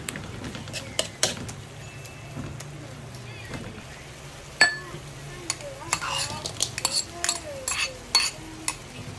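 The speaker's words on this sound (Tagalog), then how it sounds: "Pisain lang natin yung ating kamatis para lumabas ang kanyang katas." Tomatoes being pressed and crushed in a pan for ginisang upo, giving scattered soft clinks and scraping stirs over a faint sizzle, with a voice talking through part of it.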